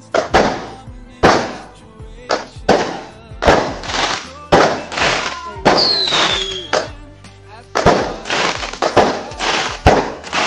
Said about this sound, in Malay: Persembahan bunga api dan juga main bunga api.